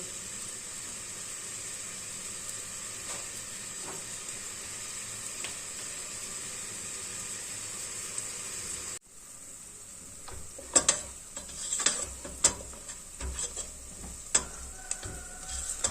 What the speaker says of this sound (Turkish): Soğanımız güzelce Karıştıra karıştıra kavuruyoruz canlarım.